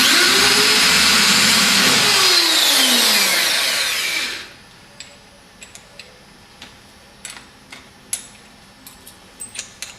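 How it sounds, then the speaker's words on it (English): A power drill whirs loudly for about four seconds as it bores a pilot hole, winding down to a stop, followed by scattered small clicks and taps. "it might be better to drill through with a pilot drill first"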